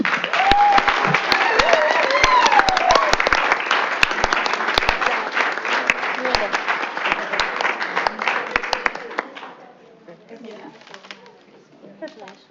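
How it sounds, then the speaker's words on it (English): Another round of applause at a school district board business meeting, a sustained burst of many hands clapping that fades out toward the end, with light voices and room noise after it. "Let's give them one more round of applause."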